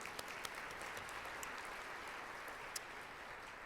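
Applause at a school district educational foundation recognition breakfast sounds as a soft, distant, steady patter of many hands, with a few sharper claps poking through.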